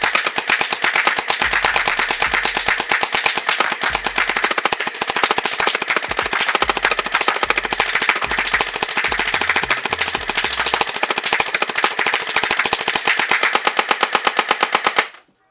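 A dinosaur head gel blaster fires full-auto at a target in one continuous loud burst of rapid, evenly spaced shots that stops abruptly at the end.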